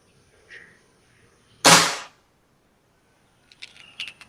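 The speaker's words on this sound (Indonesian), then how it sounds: "Oke, tembakan pertama." A single sharp crack from a Black Baron Blowzer air rifle, a competition BR25 setup, goes off close by, then fades quickly, followed by a few faint clicks and metallic ticks.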